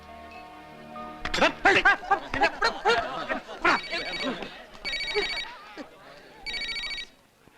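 A telephone rings twice in short electronic bursts near the end, following a stretch of laughter and voices, before the call is answered.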